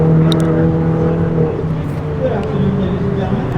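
A Porsche Cayman GTS at a track day at Auto Club Speedway, its engine drone steady and fairly loud, with people talking over it.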